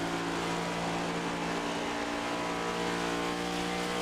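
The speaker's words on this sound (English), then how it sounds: "absolutely clutching the car, letting it roll, trying to save fuel to the end" Race car in a racing video game at Pocono Raceway, coasting with the clutch in to save fuel near the end of the race: a steady, sustained engine drone with faint engine tones, continuous and unchanging.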